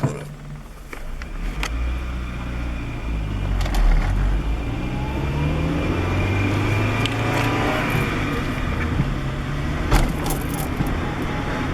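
A 1998 Acura Integra accelerates in second gear, its engine hum rising and shifting with lurches from the clutch, heard from inside the cabin with road noise and small rattles.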